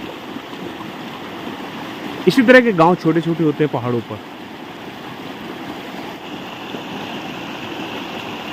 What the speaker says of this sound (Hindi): अभी ये तो एक स्ट्रीम है